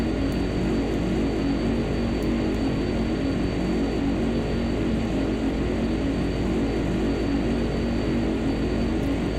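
An airplane taxis and takes off in the X-Plane 11 flight simulator, a loud, steady engine drone with propeller hum holding constant throughout, no voices over it.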